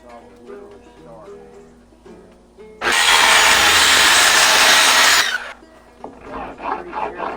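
A power saw cutting wood for an above-ground pool deck, one loud sustained burst of about two and a half seconds between quieter stretches of someone talking.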